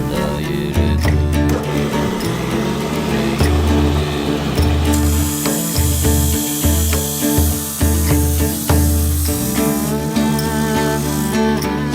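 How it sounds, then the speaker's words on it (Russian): Metal guides for yurt rafters and the dome are cut in a metalworking shop, with a steady machine hum and repeated rasping, grinding cutting passes that start and stop in a loose rhythm, loud and close. "Сейчас я нарезаю направляющие для стропил и купола."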